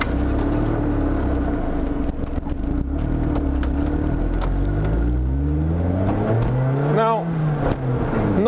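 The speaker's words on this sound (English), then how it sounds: "Let's take it for a drive." A Lotus Elise S sports car runs steadily under low engine drone, then revs up as it drives off. Engine pitch climbs in rising sweeps near the end, close and loud.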